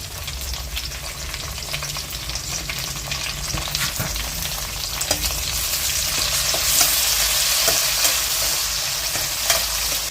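Onions and tomatoes for a crab fry sizzling in hot oil with chilli powder and turmeric, loud and continuous, with occasional stirring scrapes and clinks over the steady frying, no talking.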